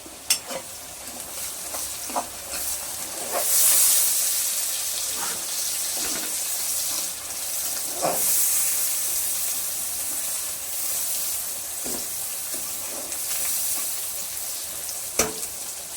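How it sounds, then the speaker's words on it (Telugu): Onions sizzle steadily in a pan while a chicken curry is cooked, a continuous close frying hiss broken by occasional scraping stirs, with no talking. "ఉల్లిపాయ మగ్గుతుంది చూసా చక్కగా ఇదిగో"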